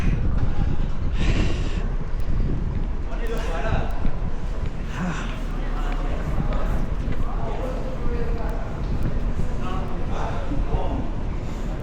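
Strong wind in New Zealand roars steadily against the microphone throughout, with people talking faintly beneath the buffeting rumble.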